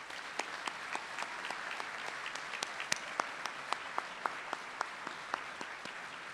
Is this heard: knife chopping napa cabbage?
no